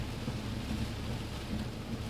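Hurricane Debby on St. Simons Island brings a steady, dense roar of heavy rain and gusting wind, a loud continuous wash with no pauses.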